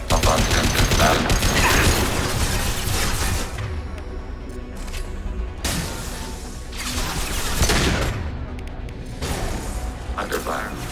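Bursts of rapid gunfire in the video game Mass Effect 2, loud fusillades that come and go in waves with short gaps, mixed with game effects and occasional voices.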